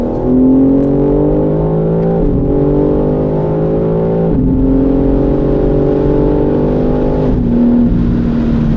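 BMW M3 CS engine accelerating hard, loud and steady, with pitch rising in repeated climbs broken by brief drops at each gear change.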